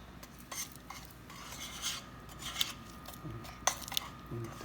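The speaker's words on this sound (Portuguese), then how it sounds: "Enquanto isso, a gente vai homogeneizando os ingredientes." Ingredients for cereal bars, including chocolate pieces, are mixed with binding syrup in a pan, producing scraping and clinking utensil sounds in irregular strokes at moderate loudness with no talk.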